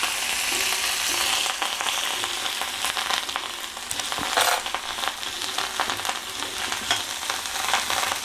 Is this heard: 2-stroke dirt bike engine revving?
no